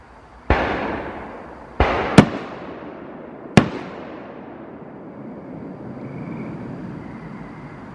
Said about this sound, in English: Who lights fireworks off in the woods?